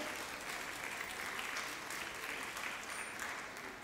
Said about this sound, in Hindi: तालियां बजाकर इनका स्वागत कीजिए।